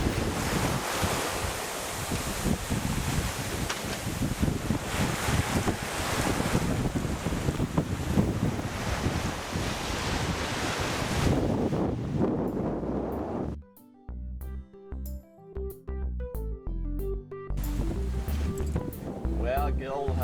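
Strong trade wind and rolling ocean waves aboard a sailboat bound for Hawaii: a loud, steady roaring wash of wind buffeting the microphone and surging water fills the first dozen seconds before music takes over.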